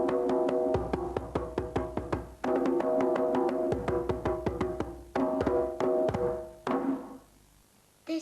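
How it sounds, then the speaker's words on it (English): A djembe drum is struck on the rim and in the middle together, sharp high slaps mixed with deeper tones in fast, busy rhythmic runs broken by brief pauses, close and fairly loud, with no talk. "This is a djembe drum and you can make 2 different sounds with it."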